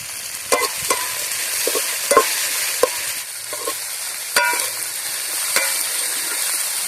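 Cut dried red chillies sizzle in oil for a village-style egg curry, under loud, irregular clacks and scrapes of a ladle stirring the pan.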